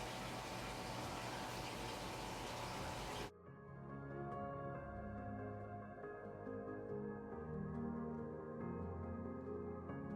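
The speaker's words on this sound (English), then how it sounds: "I did go and rinse the roots because they were just clinging with basically soil" Running water gushing over Psychopsis orchid roots during rinsing, loud and broadband at first, then cutting to a quieter, more hollow trickle.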